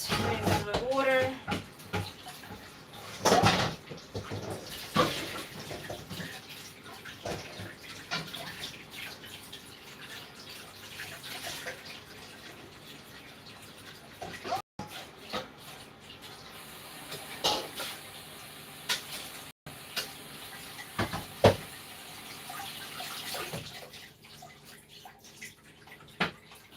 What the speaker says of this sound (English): All right, I'm gonna rinse this off.